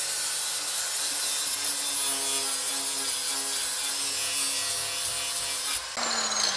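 A motorized saw cuts steadily through wood, a continuous loud whining drone with a shift in pitch near the end as the cut changes.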